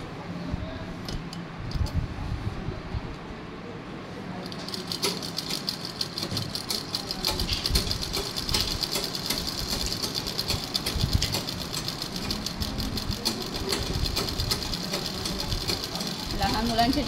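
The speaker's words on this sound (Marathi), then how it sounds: "याच्यावर दाबटीप टाकून घ्यायची" A sewing machine stitches soft cotton baby clothes, running as a steady fast mechanical rattle close by, with someone talking over it.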